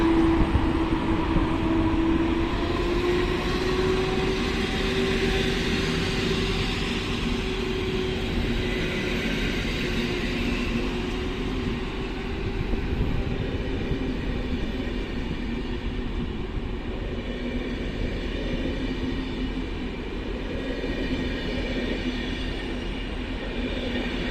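An EP07 electric locomotive hauls the Intercity Lednica train away from Bydgoszcz Główna station, a steady loud rumble with rising motor whine and rolling wheel noise throughout.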